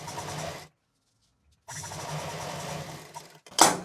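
A sewing machine stitches a seam joining leftover fabric pieces for a home-decor mat, running steadily in two bursts separated by a pause, close and fairly loud with no talking.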